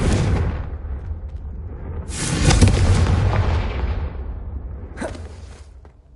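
Confringo fire spells erupt in Hogwarts Legacy: a loud opening blast, a bigger whooshing explosion that rolls and fades over several seconds, then a sharper third burst, close and without talk.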